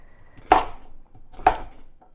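Two sharp knife chops through butternut squash and sweet potato on a cutting board, spaced about a second apart, crisp and close with quiet pauses between.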